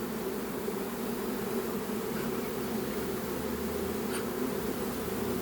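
Honey bees moving into a new hive fill the air with a dense, steady, close buzzing hum that holds evenly throughout, with no voices.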